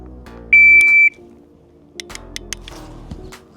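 A shot timer gives one loud, steady electronic start beep lasting about half a second before firing an MP5 clone. A few faint clicks and handling sounds follow.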